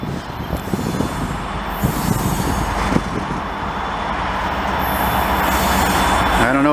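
A CP freight train led by a rebuilt locomotive rolls through Lachine station in Montreal, loud and close, with a continuous rumble and clatter of wagons. Wheels squeal near the end.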